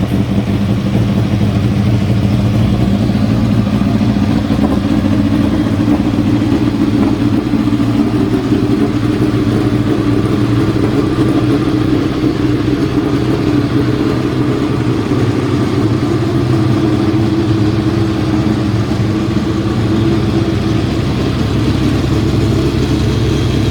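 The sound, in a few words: Formula 3 race car engine starting and running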